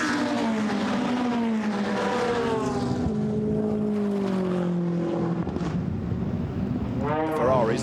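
GT race cars blast past on power at the Paul Ricard circuit during a Blancpain GT Sports Club race, loud rising and falling engine notes from several cars under continuous commentary.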